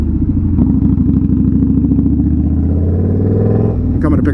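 An Indian Scout Bobber motorcycle with a project exhaust runs close up, a steady loud low rumble that pulses through the clip, with a brief sharper clatter near the end.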